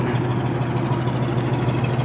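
A 1985 Buick Riviera engine idles steadily and fairly quietly after a cold start, a low, even rumble with a faint rhythmic pulse through a factory-style exhaust and no voices.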